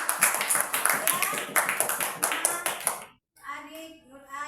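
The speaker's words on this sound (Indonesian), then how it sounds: "Ya, bagus, tepuk tangan dulu." Children in a classroom clap together in quick bursts for about three seconds, overlapping a voice, before the clapping stops and a voice speaks alone.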